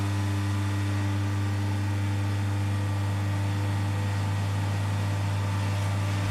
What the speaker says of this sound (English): Just started to preheat the oven at 180.